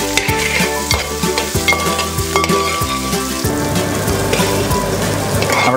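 Okra sizzles loudly as it fries in a pan, with regular stirring scrapes throughout and a dense, rain-like crackle of oil.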